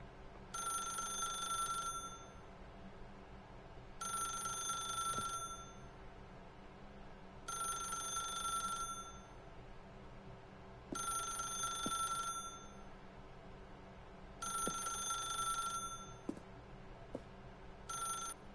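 A telephone rings in a video game, five evenly spaced electronic bell bursts with pauses between them, fairly quiet against a low background hum.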